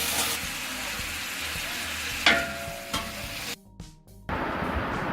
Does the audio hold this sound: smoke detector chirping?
no